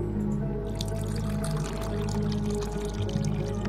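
Water pours steadily in the horror adventure game Darkness Within 2, a continuous splashing stream over a low, constant droning game ambience.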